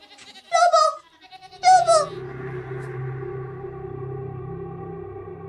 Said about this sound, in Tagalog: Nakita nga niya na nagkakagulo ang mga kambing.